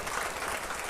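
A church congregation claps for an engaged couple at a service, a dense, steady wash of applause filling the whole moment with no voices over it.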